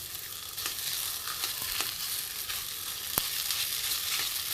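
A spice paste mixture for a vegetarian papad curry sautéing in a pan, a quiet continuous sizzle with occasional scraping taps of stirring, no talk.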